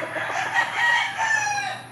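A Verdugo-line gamefowl rooster crows loudly and close, one drawn-out call with clucking and no other sounds around it.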